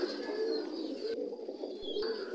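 Pigeons on a colony-style pigeon farm coo steadily in a continuous low murmur, close by and with no voices.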